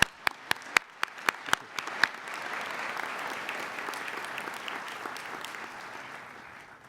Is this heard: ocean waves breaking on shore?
no